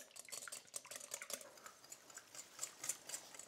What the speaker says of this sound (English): I'll put the egg in here and whisk.